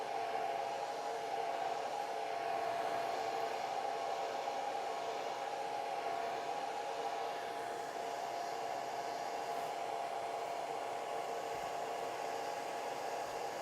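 A hair dryer blows over a wet watercolor landscape painting, a continuous airy whir with a steady mid-pitched motor tone, constant and uninterrupted, no voices.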